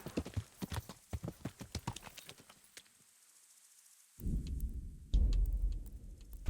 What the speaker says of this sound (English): We'll do a little horseman riding then.